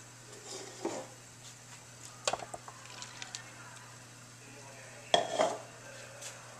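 Spoon clinking and scraping against a pot while mixing heavy cream into chocolate coconut almond cheesecake ingredients, a few distinct metallic knocks and stirring sounds over a low steady hum.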